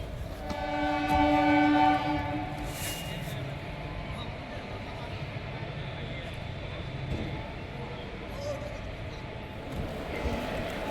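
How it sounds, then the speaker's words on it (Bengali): A train at Barabhum railway station in Purulia sounds a loud, sustained horn at the start, followed by a steady rail rumble and station ambience as people talk nearby. "এখান থেকে আমরা ইন্টারসিটি এক্সপ্রেস ধরবো বাড়ি ফেরার পথে"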